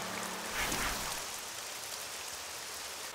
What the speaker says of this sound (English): When is this rain ever gonna stop?